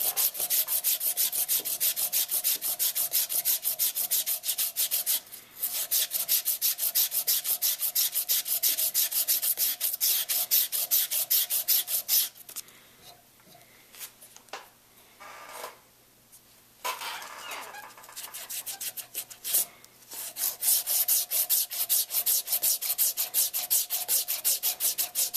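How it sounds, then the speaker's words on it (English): A part is sanded by hand in quick, rhythmic back-and-forth strokes, loud and close. The scraping stops briefly near the middle, then resumes at the same steady pace. "so it's looking to sand it pretty well, so just go ahead and keep doing this back and forth."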